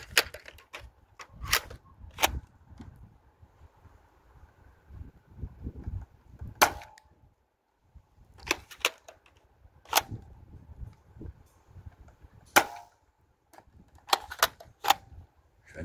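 A Dart Zone Max Aeon Pro foam dart blaster fired outdoors during a range test gives sharp snapping shots, some in quick pairs, separated by quiet gaps with faint background noise and handling sounds.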